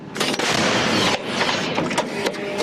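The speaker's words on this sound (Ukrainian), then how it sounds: "Гармата!" Loud, sharp blasts of heavy artillery fire on a frontline cut through a dense, continuous roar, with several distinct reports spread across the few seconds.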